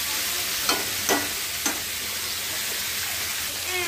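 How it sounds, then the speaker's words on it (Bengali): Onions and vegetables with salt fry uncovered in a pan over a high flame for a Mourala fish chochchori, a steady bright sizzle with a few soft stirring clicks near the start. "সব সবজিগুলো দিয়ে নুন দিয়ে হাই ফ্লেমে ভেজে নেব"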